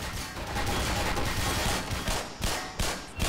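Sustained gunfire in the shooter game Black Mesa, with dense, rapid shots and bursts packed together at close range. A loud, busy firefight continues without a break.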